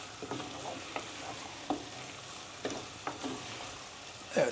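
A wooden spoon stirs tomato paste in a pot, with soft scraping strokes over a low sizzle and a few light knocks against the pot. Nearby and fairly quiet, no voices.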